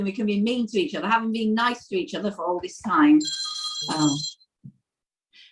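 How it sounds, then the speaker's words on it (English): A phone rings with a short, shrill electronic trill that cuts in near the end of a person's speech, then stops abruptly. "Sorry, that was my phone."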